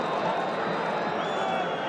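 A football stadium crowd at the 2010 World Cup match between Germany and Argentina keeps up a dense, continuous roar with thin whistles threaded through it, and a commentator's voice sits underneath.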